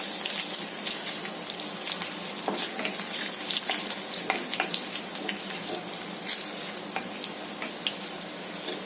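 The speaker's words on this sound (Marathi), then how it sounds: "कढीपत्ता चांगला गरम झाला की मग आपण लसूण घालूया थोडी। लसूण चांगली लाल होऊ दे।" Garlic fries in hot oil with curry leaves for a Marathi pumpkin bhaji, a steady, close crackling sizzle dotted with sharper pops and spatters that runs throughout with no talking.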